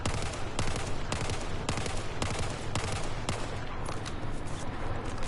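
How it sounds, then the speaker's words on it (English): Gunfire from a rifle in Battlefield 4, shot in short 3 to 5 round bursts on a practice range; loud, repeated bursts with brief pauses between them and no talking. "I'm going to be shooting right above our stock grouping here to see how we fared out. 3 to 5 round bursts, let that recoil reset."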